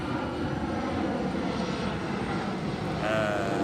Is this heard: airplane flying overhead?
yes